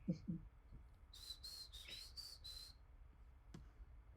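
A person tries to whistle, producing a run of five short, thin, wavering high tones in a row, fairly faint, with a few soft breathy sounds and a sharp click around them.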